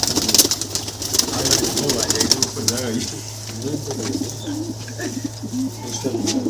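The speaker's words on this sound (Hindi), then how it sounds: "ये भाई अपना पुराना कबूतर है।" An old pigeon coos in soft, repeated low burbles close by, over a steady hum, with a voice talking briefly at the start.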